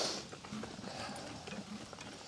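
Carriage horses clip-clop on a road in Acadia, a team pulling a carriage, with steady, soft hoof beats close by over a low background rumble.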